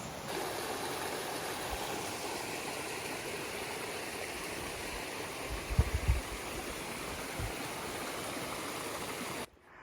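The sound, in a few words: small waterfalls in a stream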